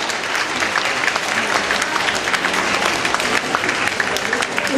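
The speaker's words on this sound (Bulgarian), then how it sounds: "Аплодисменти и четвъртата награда в днешното състезание за Соня Тимова от Варна." A crowd at an awards ceremony for a floral competition claps steadily and densely, the applause filling the room continuously while a voice speaks over it.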